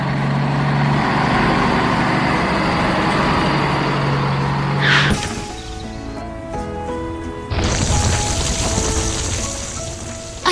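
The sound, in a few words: concrete mixer truck driving through city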